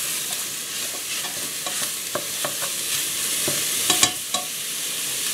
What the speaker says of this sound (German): Das Ganze auch mit dazu anbraten.